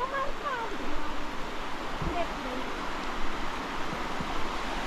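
A village stream in the Konkan hills flows with a constant, moderately close rush of water, with a few faint higher calls over it.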